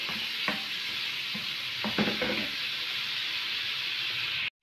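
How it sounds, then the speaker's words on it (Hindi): Ginger and garlic sizzle steadily in a hot pan for several seconds, a continuous close frying hiss broken by a few scraping stirs, with no voices. "अदरक लहसुन को हम फ्राई करके इसमें बस हल्का सा ही हम मसाले डालेंगे"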